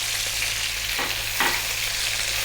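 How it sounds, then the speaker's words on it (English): Sliced onion with garlic ginger paste sizzles on full heat in a pan, a steady loud frying hiss with a couple of brief stirring scrapes partway through. "We're going to be frying this around for about 3 minutes."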